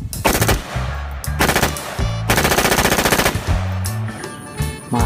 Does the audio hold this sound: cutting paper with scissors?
no